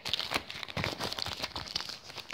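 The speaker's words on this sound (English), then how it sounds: "Let me open one pack." Crinkling foil card pack of Invizimals cards being torn open by hand, a close, steady run of crackly crumpling and ripping with no talk.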